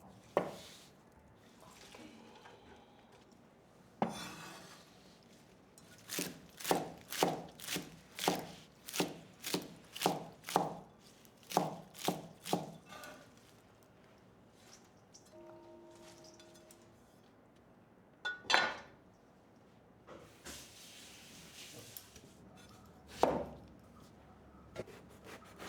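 A kitchen knife chops eggplant into small pieces on a board during Hakka Chinese home cooking in Calcutta, giving a quick run of sharp, close taps in a steady rhythm, then a few scattered knocks and light clatter.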